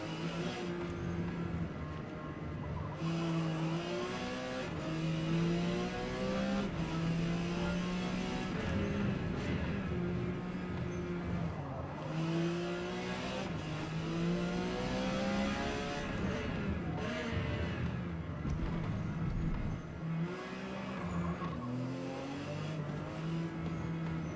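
A Porsche 956 prototype race car in Forza Motorsport, P class at Hockenheimring, its engine note continuously rising and dropping through gear changes and braking, loud and unbroken throughout with no talking.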